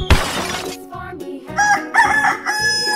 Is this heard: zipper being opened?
no